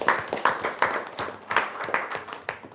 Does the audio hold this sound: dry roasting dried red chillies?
no